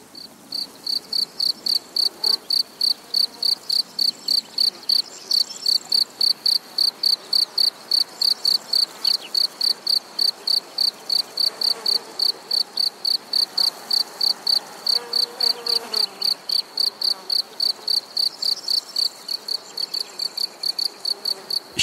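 Male crickets chirp in a meadow, a loud close pulsing trill repeating at a steady fast rhythm throughout, with a faint voice in the background.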